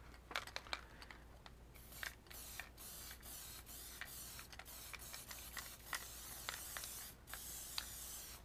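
Ink or paint sprayed onto a mixed media canvas in quick repeated short hissing bursts, some faster than others, quiet and close with pauses between.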